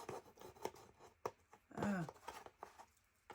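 Jigsaw puzzle pieces are rummaged through in a tray, giving quiet close scratching, rubbing and light clicking rustles in short irregular bursts.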